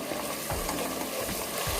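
Tomato thokku mixture frying in a pan, a steady close sizzle with soft stirring scrapes and occasional low thumps, no talking.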